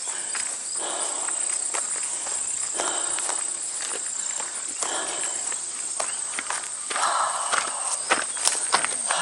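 Footsteps crunch steadily through grass on a farm in late summer, close and rhythmic, over a constant high chorus of insects and crickets.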